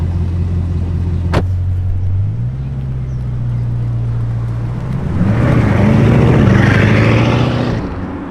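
A Bugatti Divo supercar engine drones steadily and then swells louder as it accelerates, a deep rumbling roar that builds and fades near the end.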